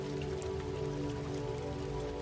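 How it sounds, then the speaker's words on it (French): Steady patter of rain falling, a dense continuous hiss with scattered droplet ticks, fairly soft and even throughout with no voices. "Et la pluie commence."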